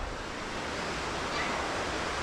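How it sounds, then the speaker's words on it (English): Swollen, murky river in rainy season near a village in Thailand, a continuous broad rushing roar of flowing water with some wind buffeting, steady and fairly loud. "there's a river running through"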